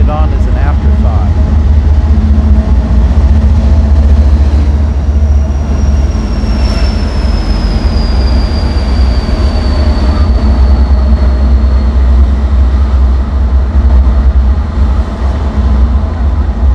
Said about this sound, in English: All right, another train is coming.